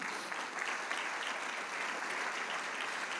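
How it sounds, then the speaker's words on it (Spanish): Steady, dense applause from a congregation at a church service, loud and continuous for the full length with no voices rising above it. "¿Le puedes dar un fuerte aplauso al Señor Jesús?"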